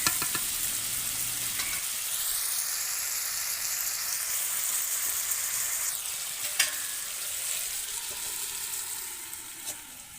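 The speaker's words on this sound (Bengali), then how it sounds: "ভালো করে কষিয়ে নেব।" Chicken curry sautéing with sugar-browned masala in a pan: a loud, continuous close sizzle with a few utensil taps as it is stirred.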